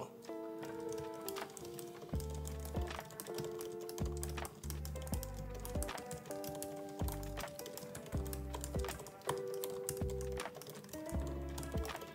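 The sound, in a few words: typing on a computer keyboard for a typing speed test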